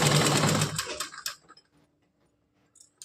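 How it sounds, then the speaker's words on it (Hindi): Sewing machine stitching a folded hem on a small doll frock, a loud close burst of running that tapers off within about a second, followed by near silence and faint handling. "इस तरह से मोड़कर सिलाई लगा लेंगे हम"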